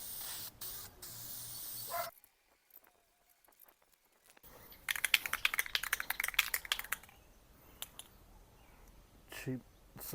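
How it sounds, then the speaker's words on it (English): Short bursts of spray paint hiss from a can of cheap primer and semi-gloss black paint, applied in several quick passes on a homemade pet sled, with a quiet gap between coats. "we'll shoot it with some cheap primer and some paint"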